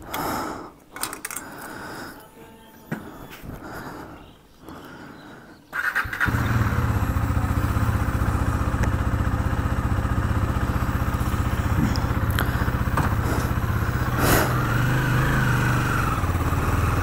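A motorcycle engine fires up after a few seconds of light handling noises, then settles into a steady, close running rumble that continues without a break, with a couple of brief clicks over it, at the start of a ride from Kolkata to Murshidabad.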